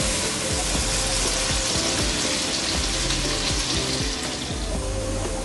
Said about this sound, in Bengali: এবার দিয়ে দিচ্ছি রসুন কুচি। সব কিছুকে আমি এখন ফ্রাই করে নিচ্ছি।